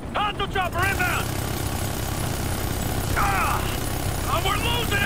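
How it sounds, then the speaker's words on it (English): Hostile helicopter in the Ghost Recon Future Soldier video game, a constant loud rotor and engine roar under urgent radio voices and shouted speech in short bursts. "hostile chopper inbound!"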